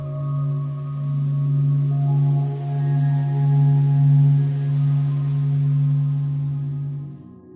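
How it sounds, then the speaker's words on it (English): Sonified sound of the sun built from solar observatory data by the Stanford Experimental Physics Lab: a steady low droning hum with faint higher overtones, swelling gently and fading out at the end. "The sounds you heard in this piece were sonified by the Stanford Experimental Physics Lab."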